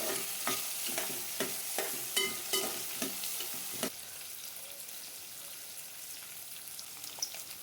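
Field beans fry with onion and bay leaf in a pan while a spoon scrapes and stirs, giving a run of sharp, regular clacks over sizzling that then fade to a quieter steady hiss with a few scattered taps.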